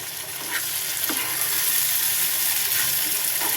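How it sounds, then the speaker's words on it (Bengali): A spoon stirs mashed green banana paste in a cooking pot over heat, giving a steady close sizzle with a few soft scraping strokes and no talk. "এখন নাড়াচাড়া করছি, বারবার নাড়তে হবে, কারণ এটা লেগে গেলে, পাতিলে লেগে গেলে ভালো লাগবে না"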